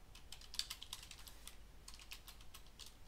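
Quick, light keystrokes on a computer keyboard come in irregular clusters, faint and close, with no voices over them.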